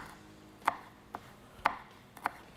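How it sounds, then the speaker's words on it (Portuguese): A knife chops garlic on a cutting board while a cook prepares a tricolor risotto: four crisp, separate strikes at an uneven pace, quiet and close, with no talk. "E vou cortar esse alho aqui bem pequenininho."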